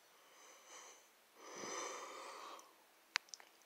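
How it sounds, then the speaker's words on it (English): A person gives a long, breathy yawn that swells and fades close to the mic, followed by a few small clicks. "sorry for that yawn"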